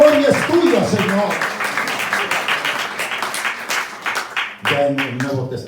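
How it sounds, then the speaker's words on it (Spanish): A church congregation applauds during a worship service, steady crowd clapping running throughout, with a voice and some singing or calling mixed in near the start and end. "Dele ese aplauso al Señor, hermano."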